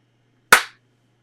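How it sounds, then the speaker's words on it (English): A single sharp hand clap aimed at a small animatronic L0-LA59 droid toy from Kenobi, loud and close, decaying quickly into silence. "I'm gonna clap at it"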